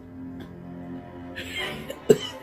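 A person imitates a wheezy cough, with a breathy rasp building to a sharp cough burst near the end.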